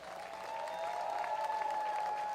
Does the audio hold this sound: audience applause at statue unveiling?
yes